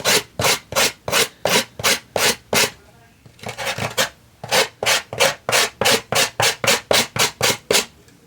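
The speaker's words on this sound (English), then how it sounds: "I'm gonna have to do this one with the, the sander" A sander rubs rhythmically over a craft gift package, about twenty quick even strokes at close range, pausing briefly around the middle before resuming, with no speech.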